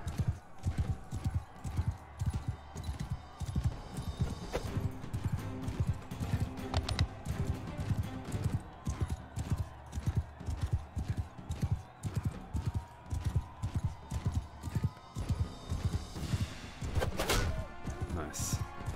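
Rapid, steady hoofbeats of a galloping horse in Mount & Blade II: Bannerlord pound throughout, loud and close, with occasional thuds and clanks mixed in and voices talking over it.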